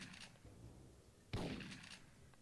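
A single sharp gunshot fired at boxes in a PlayStation 1 game, one sudden loud crack after quieter, faint background noise, with a short decaying tail.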